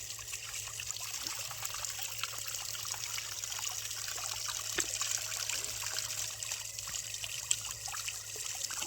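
Water trickling and splashing as hands and feet are washed with soap at a village farm, a quiet continuous dribble over a low hum, with occasional small splashes.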